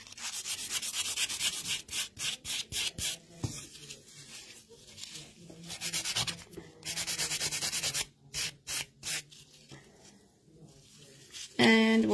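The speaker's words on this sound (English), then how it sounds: "we will grab our medium coarse buffer. So starting on the coarse side, just gonna run through that real quick" Repeated short rasping strokes of the coarse side of a medium-coarse nail buffer rubbing across a nail, close and fairly loud, in quick bursts with brief pauses.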